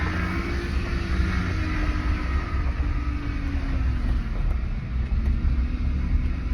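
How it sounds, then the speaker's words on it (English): Rough power steering pump on a truck that is towing, a loud, steady engine rumble with a droning mechanical whine running throughout and no talk. "The power steering pump in this is rough."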